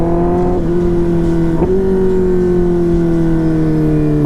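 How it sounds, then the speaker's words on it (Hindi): A motorcycle with a loud exhaust downshifts while riding, its strong steady engine note jumping in pitch twice before easing back down, loud and close. "तो गाइस यार डाउन शिफ्ट सुनोगे"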